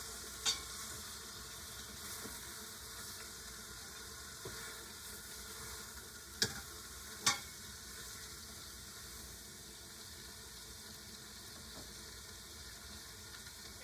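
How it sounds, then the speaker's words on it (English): Beef sears and browns in a hot pan with a faint, steady sizzle under a constant hum, broken by three or four brief sharp clicks or scrapes. "You want to sear it just to seal in the moisture"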